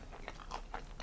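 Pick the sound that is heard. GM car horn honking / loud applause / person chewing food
person chewing food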